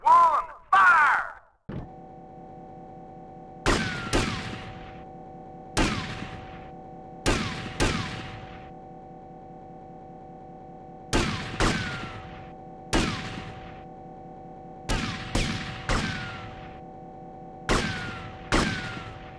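Gunshots ring out at a shooting range in GTA Vice City: about a dozen loud single reports, some in quick pairs, spaced irregularly over a steady low hum, each with a short decaying echo.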